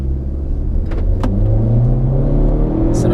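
A 2016 Honda Civic 1.5 turbo accelerates hard, its engine note rising steadily in pitch as it gathers speed, loud and close from inside the cabin with no talking.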